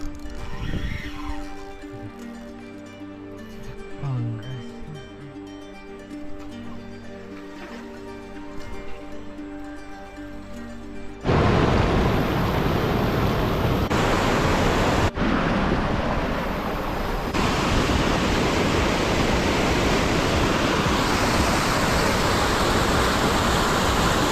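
Warna river water rushes in a loud, steady broadband roar, close and unbroken, getting louder and harsher partway through as if heard from nearer the flow.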